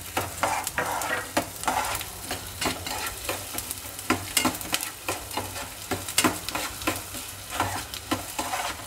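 Coriander seeds roasting in a pan while being stirred for a mint chutney powder, with repeated scraping strokes over a steady dry sizzle, close and rhythmic throughout.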